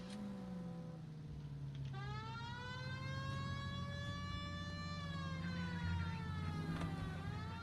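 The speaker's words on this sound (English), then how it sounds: "We have a siren." Police car siren in the video game L.A. Noire, a continuous wailing tone that rises and holds, fairly loud and steady over engine hum for several seconds, without talk.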